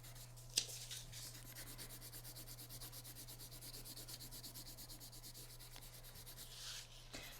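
A crayon rubs steadily over marker on a Halloween mask, making a faint, continuous scratchy rubbing close by over a low background hum, with no talking.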